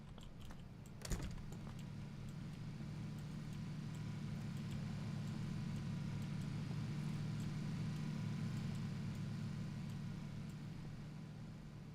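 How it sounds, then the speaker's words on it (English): Car engine in the battle royale shooter PUBG: a steady low rumble that holds through nearly the whole stretch, swelling gradually and then easing slightly toward the end, with a sharp click near the start and no talk. "I hear a car."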